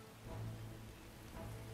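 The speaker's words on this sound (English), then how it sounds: "You can hear the rain extremely well." Rain falling in the strategy game Empire: Total War, a steady soft hiss of raindrops with a low hum beneath, faint and continuous over a short stretch.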